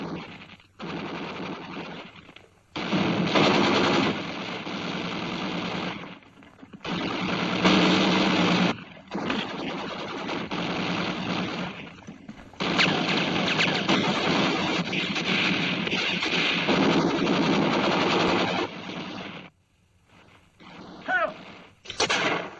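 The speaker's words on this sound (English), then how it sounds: "They're pinned by machine gun fire" Machine gun fire rattles in long sustained bursts during a war-film battle, loud and close, broken by brief pauses between volleys.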